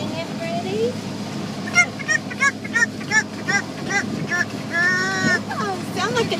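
A pet parrot gives a series of short, repeated squawking calls imitating a chicken's clucks and cackles, spaced rhythmically and close up, ending in a longer drawn-out call.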